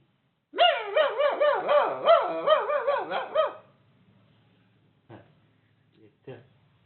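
A person imitates a puppy, letting out a rapid string of high yapping barks, followed by quiet and a few short vocal sounds.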